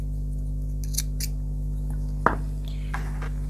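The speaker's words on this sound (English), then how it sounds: "you can just go ahead and cut your yarn" Scissors snip through crochet yarn with one sharp, close cut standing out above a steady low hum, and a few softer handling clicks and rustles come before and after it.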